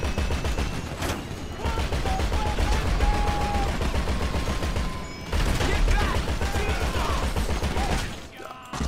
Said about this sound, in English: Guns up. Shooting directly above me.